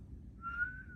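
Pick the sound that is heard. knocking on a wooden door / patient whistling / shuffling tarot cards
patient whistling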